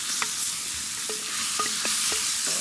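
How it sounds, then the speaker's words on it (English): Tomato and green chilies sauté in a pot for mutton biryani, a soft continuous sizzle broken by several sharp scrapes and clinks of a spoon against the pot. "Pretty much just doing a saute right now."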